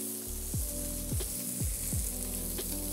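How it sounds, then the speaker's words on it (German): Meat for Zürcher Geschnetzeltes searing in a hot pan, a loud steady sizzle broken by several rhythmic scraping strokes as pieces are stirred, with no voices. "Wir braten das jetzt einmal an. Scharf."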